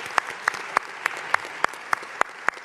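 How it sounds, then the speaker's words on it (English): Audience applause for tenant associations at a Brooklyn civic event, heard as sparse, separate claps with a few sharper accents, moderately near and alone. "let's give them applause."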